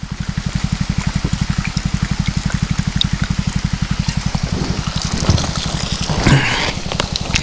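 Natural roadside water trickles steadily while being collected, a close, even splashing with a fast pulsing rhythm, then brief clatters toward the end.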